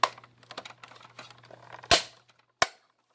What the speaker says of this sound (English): this center portion right here is actually a button that will, when pressed, activate the lights and sounds inside the head unit